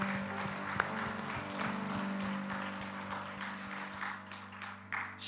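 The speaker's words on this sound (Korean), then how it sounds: "우리 하나님께 영광의 박수 올려드리겠습니다." Congregation applauding in a church during a special year-end early-morning prayer service, a steady wash of clapping with a sustained organ or keyboard chord underneath, holding at moderate level throughout.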